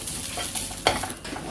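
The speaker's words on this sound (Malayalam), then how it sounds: "നമുക്ക് ലോ ഫ്ലെയിമിൽ ഈ തേങ്ങയൊന്ന് വറുത്തെടുക്കാം" Grated coconut fries in coconut oil over a low flame while a spoon stirs it, giving a soft sizzle and a few light scrapes, close and quiet with no talk.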